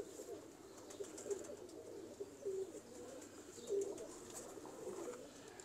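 Domestic pigeons coo softly in repeated low throaty phrases, close by and fairly faint, with no voices over them.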